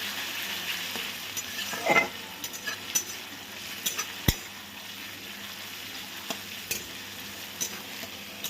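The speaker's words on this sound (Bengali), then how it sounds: "দিয়ে ভালোভাবে নাড়াচাড়া করে নেবো রসুনের কাঁচা গন্ধটা যতক্ষণ না চলে যাচ্ছে" Garlic fries in a pan for fried rice while a utensil stirs it, giving a soft, low sizzle broken by scraping strokes and a few light clinks against the pan, with no talking.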